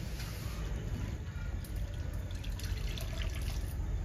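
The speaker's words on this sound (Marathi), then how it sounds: "आता बर्फाचे पाणी टाकू आपण, ज्याचा कलर ना हिरवाच राहते" Ice-cold water is poured into spinach cooking in a pan, a soft, steady pouring and bubbling wash, fairly quiet and close, continuing evenly with no one talking.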